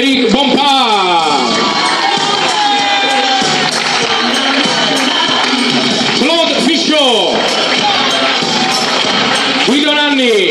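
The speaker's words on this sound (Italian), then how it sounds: "facciamo un grande applauso" At a sports team presentation in Pinzolo, a loud crowd cheers, whoops and shouts, with rising and falling yells over a constant roar of applause.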